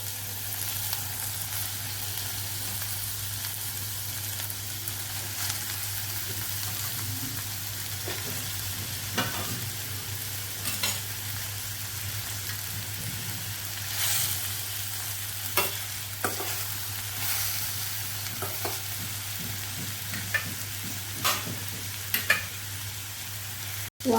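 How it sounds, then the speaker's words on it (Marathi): Eggplant sautéing in oil with chopped tomato for stuffed brinjal, a faint, steady low sizzle with scattered clicks and scrapes of stirring, quiet throughout with no talk. "वांगी थोडीशी तेलामध्ये अशी परतून घ्यायची 1-2 मिनिटाची."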